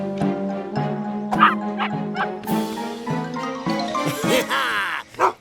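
Cartoon dogs in a kids' animated show bark, yip and whimper in a busy mix of short and drawn-out calls, with a faint jingle and a sharp final yelp.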